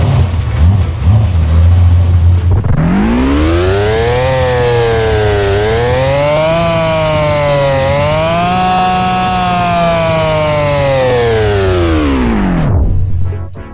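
A McLaren F1 GTR engine in the Roblox game Driving Empire starting up and revving, a loud, smooth, harmonic engine tone that rises, dips and climbs again over several seconds before cutting off.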